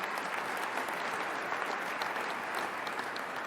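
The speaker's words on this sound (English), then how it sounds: "Give them a round of applause." Steady, dense applause from an audience at an MLK Day keynote address, a continuous wash of many hands clapping at even loudness throughout with no speech over it.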